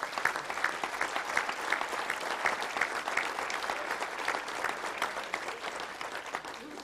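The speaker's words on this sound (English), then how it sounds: "Let's give them a round of applause." Audience applause at a touchdown club luncheon, a steady wash of clapping from a sizable crowd that holds for several seconds and fades slightly toward the end.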